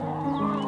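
Several chickens cluck together after slipping out of an open coop door that swung loose during a move, a steady close cluster of clucks and murmurs.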